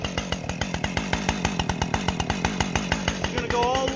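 Stihl professional chainsaw, about 50 cc with a 20-inch bar, cutting through wood, loud and close with a rapid, even pulsing engine rhythm throughout.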